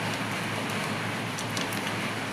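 Steady, dense rain hisses continuously, loud and close, with no voices.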